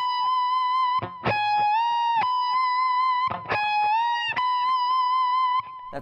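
Electric guitar with a distorted, sustained tone plays a lead phrase of held notes bent up and released, with quick picked runs between them, close and loud, no voice.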